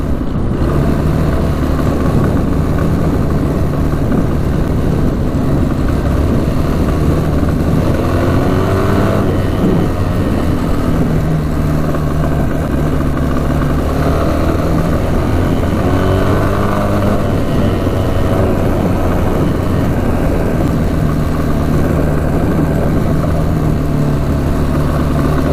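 A street legal dirt bike engine runs continuously close by, its note rising and falling through several revs over a steady mechanical drone, with no voices.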